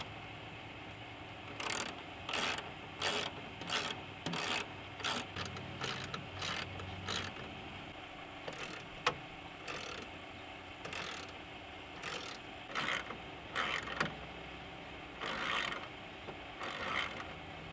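Screws being removed from a Ram truck grille, probably a 4th-gen Cummins pickup, sound as a long series of close, sharp metallic ratcheting clicks in irregular bursts with brief pauses.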